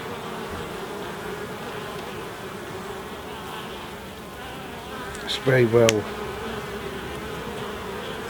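A dense, steady hum of many honeybees buzzing close up in an open hive, with a voice briefly speaking partway through.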